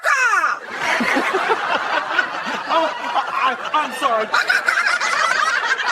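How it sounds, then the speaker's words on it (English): A parrot's squawks and chattering bird calls, repeated in quick bursts with gobbling, laugh-like vocal sounds, close and lively, with a brief spoken remark mixed in. "Who let you swear in the jury with bird sounds?"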